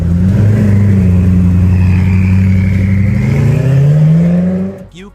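A Koenigsegg Agera RS hypercar engine roars loud and close, holding a deep, rising rev for several seconds before cutting off abruptly near the end.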